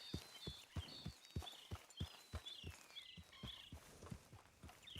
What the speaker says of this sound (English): So now I just whistled for that horse and he's going to come.